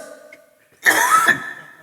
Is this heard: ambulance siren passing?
no